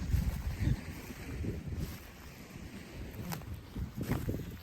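Strong wind blows outdoors on the Danish coast, buffeting the microphone in loud, uneven rumbling gusts that rise and fall, with no talking.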